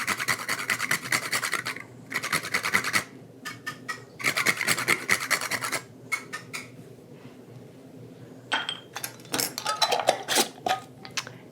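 A whole nutmeg being rubbed over a grater for bread pudding: close, rhythmic rasping strokes in fast runs, pausing briefly, then resuming with a few sharper scrapes near the end.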